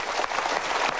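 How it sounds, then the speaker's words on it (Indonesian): A seated audience at a talk show gives a brief burst of applause, steady and moderately loud for about a second. "Kita berikan tepuk tangan untuk mereka."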